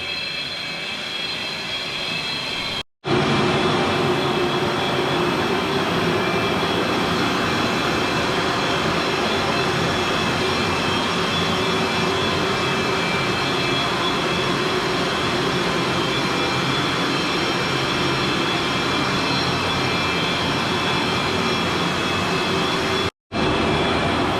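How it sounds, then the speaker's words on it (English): A stationary bike pedaled steadily during a VO2 max fitness test gives a loud, continuous whirring drone that holds even throughout, broken only by two brief dropouts near the start and end. "if you want to just start pedaling away for me, nice and steady"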